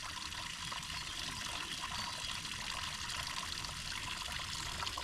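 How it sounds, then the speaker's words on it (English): A small trail waterfall draped in hanging grass and moss pours in a constant, soft, hissing splash, steady and unbroken throughout with no voices. "I'm going to call it the Grassy Moss Waterfall. Lots of hanging grass and moss on it."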